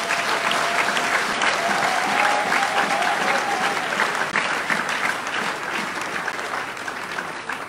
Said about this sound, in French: Est-ce qu'on peut acclamer le Seigneur pour ses enfants?